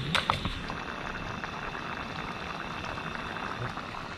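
A steady, close bubbling and gurgling of water at a rolling boil in a pot, continuous throughout with a faint hiss.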